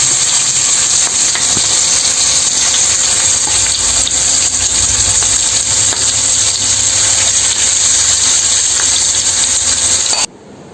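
Prawns coated in chili, salt and turmeric fry loudly on a stove, a dense, continuous crackling sizzle close up that holds steady for about ten seconds before cutting off abruptly.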